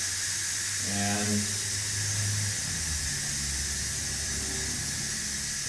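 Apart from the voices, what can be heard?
steam hissing out of a cooking pot of potatoes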